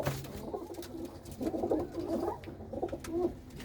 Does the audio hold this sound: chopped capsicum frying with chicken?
no